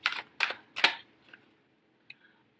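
Tarot cards shuffled by hand in a few quick riffling bursts, crisp and close, followed by a couple of faint taps, with no talking.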